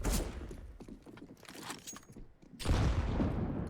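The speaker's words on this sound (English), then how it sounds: "Oh, that's a brutal nade." Grenade blast in a Counter-Strike: Global Offensive pro match on the Vertigo map, a loud burst of booming gunfire-like noise at the start, then scattered game clatter and a second heavy burst near the end.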